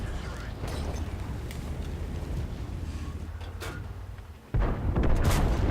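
Tank cannon fire in the World of Tanks video game: a sharp, heavy boom bursts out near the end over a continuous rumbling engine and battle din.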